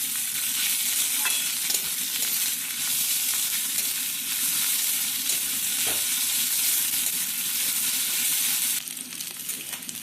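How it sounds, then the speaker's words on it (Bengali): Chopped chicken stir-fries in a hot pan for fried rice with a loud, continuous sizzling roar and faint scraping of stirring, easing off slightly near the end. "এবার দিয়ে দেওয়া হচ্ছে চিকেনের কুচি। ভালোভাবে নেড়ে ছেড়ে নেওয়া হচ্ছে আবারও।"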